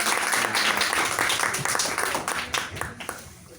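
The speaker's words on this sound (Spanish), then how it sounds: "Un aplauso para nosotros," An audience claps enthusiastically, a steady wash of applause that gradually thins toward the end, with some voices mixed in.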